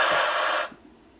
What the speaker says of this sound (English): sideband skip is rolling like crazy